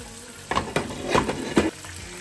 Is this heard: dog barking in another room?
no